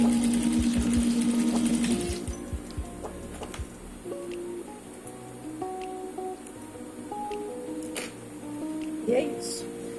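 A sewing machine stitches a seam on a homemade pencil case, running steadily for about two seconds before stopping, followed by quieter handling sounds and background talk.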